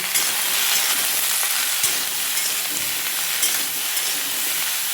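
Bottle gourd curry frying in hot oil with chili and spices in a covered pan, a steady close sizzle that holds evenly throughout with no voices.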